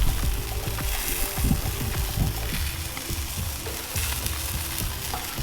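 Whopper-style burger patties sizzle on a Weber Kettle charcoal grill during indirect cooking, a loud, steady frying crackle with scattered pops and crackles throughout, close and without voices.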